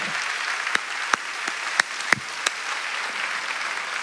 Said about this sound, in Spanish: Demos un fuerte aplauso al Señor.